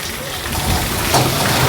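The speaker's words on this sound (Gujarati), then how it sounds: "વરસાદ બહુ ચાલુ છે" Heavy rain pours down outside a home during a multi-day downpour, giving a dense, steady hiss with a thud or two, while a person speaks over it.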